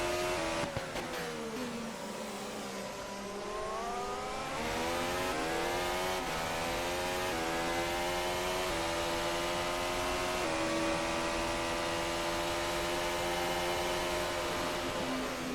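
A race car in a sim racing broadcast of a Brazil round, its engine droning steadily as it comes into the pits, with the pitch sweeping down and then climbing in stepped gear changes, loud and continuous with no voices.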